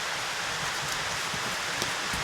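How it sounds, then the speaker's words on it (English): Steady rain falls outdoors, a dense even hiss with occasional heavier drops, loud and continuous with no voices. "when you hear the rain"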